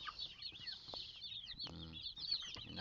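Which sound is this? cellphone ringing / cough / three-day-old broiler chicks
three-day-old broiler chicks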